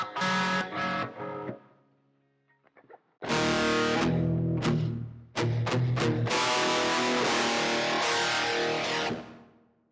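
Electric guitar through the Tube Clipper distortion effect of a Valeton GP-100 multi-effects unit, loud chords and short stabs with sustained ringing, separated by brief pauses and a few quiet picked notes.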